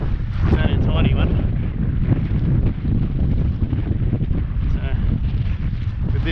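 Strong wind buffets the microphone on a small boat while squid fishing on a very windy morning, a heavy continuous roaring rush with gusting surges and faint water movement beneath.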